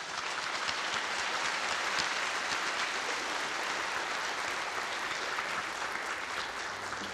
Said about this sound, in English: please give them another big round of applause to thank them.